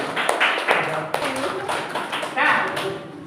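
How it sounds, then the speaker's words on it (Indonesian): A classroom group claps for a team of pupils during a school teaching session, a short burst of scattered hand claps mixed with voices talking over them. "Tepuk tangan untuk kelompok Batak."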